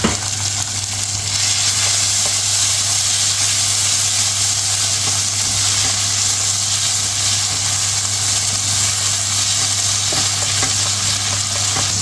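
Sliced tomato sautés in a hot pan for Lahori black pepper chickpeas, with a loud, continuous close sizzle, light stirring scrapes and no voices.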